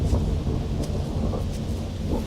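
Steady rain with low rumbling thunder from the horror video game White Night, a dense continuous wash of downpour and deep rolling booms with no voices.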